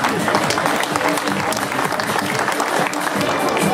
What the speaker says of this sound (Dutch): Ovationeel applaus voor Robert de Greef.